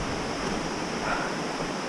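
A strong creek on the Pratt River Trail flows in a steady, broadband rushing wash, fairly soft and continuous with no voices.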